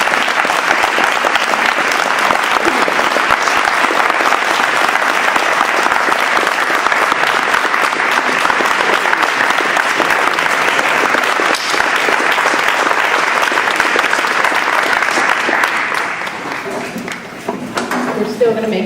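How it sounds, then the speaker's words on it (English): A membership meeting audience gives a long, loud round of applause, dense and steady for about sixteen seconds before thinning out and fading toward the end. "So I'd like to ask y'all to give him a big round of applause."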